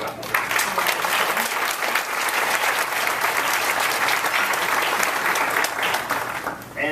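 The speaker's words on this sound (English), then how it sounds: "We probably should clap for those that have gave us support throughout the journey" A large audience applauds at a 2015 graduation ceremony, with steady, dense clapping filling the hall for several seconds before it begins to fade.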